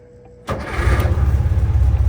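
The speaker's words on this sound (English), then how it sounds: "Let me show you how well this car actually turns on." A 1978 Volkswagen Super Beetle convertible engine cranks and catches after a brief quiet moment, settling into a steady, throbbing idle close by.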